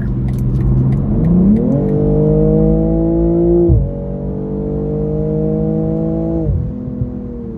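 BMW M240i accelerating hard to overtake on a Massachusetts road, heard from inside as a loud engine note climbing through two upshifts with steady droning pulls between them, no talking.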